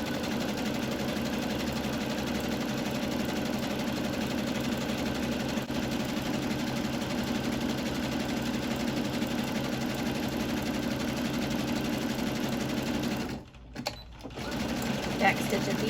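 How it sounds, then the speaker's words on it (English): A sewing machine runs steadily along a quarter-inch seam on a headband, humming with a continuous motor whir that briefly stops near the end before a short restart, while someone talks throughout. "I'm gonna go ahead and just sew the whole length at a 1/4 inch seam allowance."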